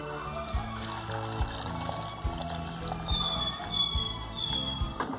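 Water poured into a mix being readied for grinding for a beef meatball caldillo, a short continuous splashing pour in a home kitchen with faint clinks and no talk.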